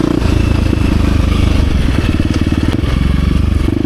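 A 2023 KTM 350 XC-F Factory Edition dirt bike engine runs hard and close, a loud, steady buzzing drone with rapid pulsing throughout and no voices.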